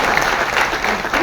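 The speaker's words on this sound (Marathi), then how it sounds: "आपण एकदा जोरदार टाळ्या" Loud, dense applause from an audience at a sugarcane farmers' conference in Baramati, a steady wash of clapping that fills the short moment without a break.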